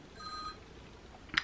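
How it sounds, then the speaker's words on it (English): A telephone rings once, a short bright electronic trill over quiet room tone, followed by a sharp click or knock near the end. "there's my phone call"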